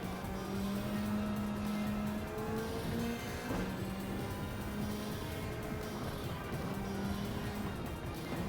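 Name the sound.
race car engine and tires from video game Gran Turismo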